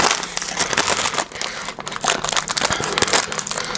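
A bag of Nido powdered milk crinkles and crackles as it is squeezed and handled close by, with loud, continuous, irregular plastic rustling.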